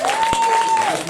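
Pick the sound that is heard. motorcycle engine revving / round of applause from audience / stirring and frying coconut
round of applause from audience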